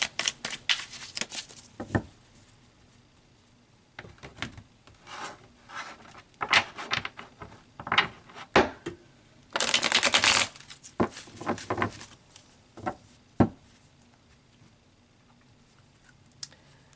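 Tarot cards shuffled by hand in repeated bursts of crisp riffling and rubbing, with a longer dense flurry near the middle and short pauses between, close and moderately loud with no talking.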